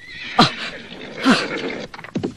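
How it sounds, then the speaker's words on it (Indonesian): Horse neighing in a whinny, one sharp call near the start and a second shorter one a second later, with a few softer snorts or hoof sounds toward the end, fairly close and unaccompanied. "siapa yang datang dengan memakai kuda itu, Buma?"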